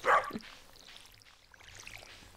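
One quick bark from a pet dog in the farming game Stardew Valley, then a softer follow-up yip, leaving only a quiet ambient bed afterward.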